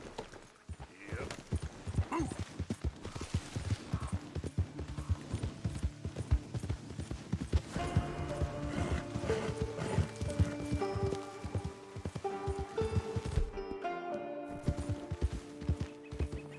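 Horse hooves clip-clopping at a steady trot in the video game Red Dead Redemption 2, a busy rhythmic patter throughout with music and game sounds rising in the middle.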